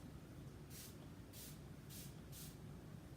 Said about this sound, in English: I'm gonna hold it away from her and I'm just gonna spray.